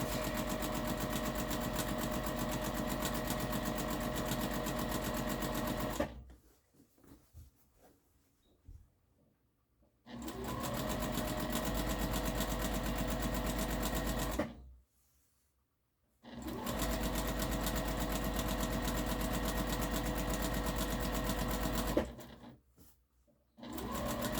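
Sewing machine stitching a channel around the edge of a vegetable-print fabric harvesting apron, running loud and steady in three long bursts separated by short quiet pauses.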